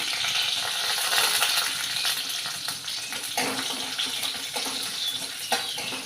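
Mustard seeds and four or five dried red chillies sizzle in hot oil for a bitter gourd curry, making a soft, steady crackling hiss up close with faint pops and no talk.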